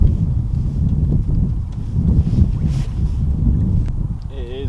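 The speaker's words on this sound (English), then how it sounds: "That wind is just tearing at my face." Bitterly cold blizzard wind on the River Ouse buffeting the microphone in a continuous, loud, gusty rush, with a brief unclear sound near the end.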